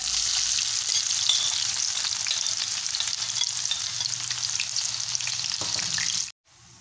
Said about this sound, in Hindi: उसी ऑयल में हम प्याज डालकर इनको भी ब्राउन कर लेंगे।